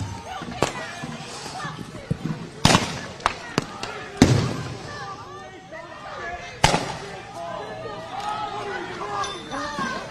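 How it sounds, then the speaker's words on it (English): Flashbangs and tear gas rounds fired at street protesters, with several sharp loud bangs at irregular intervals over a restless crowd, with people talking and shouting throughout. "agents responding with another round of tear gas and flashbangs"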